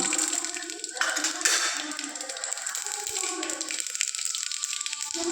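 Mustard seeds sizzle and crackle in hot oil, a dense hissing spatter with scattered pops, continuous and close throughout.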